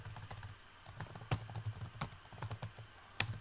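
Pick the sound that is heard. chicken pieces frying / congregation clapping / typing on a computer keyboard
typing on a computer keyboard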